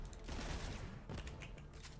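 The Try Bolt gun in Borderlands 3 sets off rapid timed explosions, heard as quiet clusters of sharp cracks and pops with a faint mechanical clatter between them.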